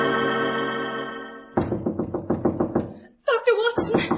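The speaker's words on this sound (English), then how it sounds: "I was awakened by the maid rapping frantically at my door." Urgent knocking raps on a wooden door, a rapid series of sharp thuds in two quick bursts, loud and close, following a sustained tonal note at the start of a radio drama scene.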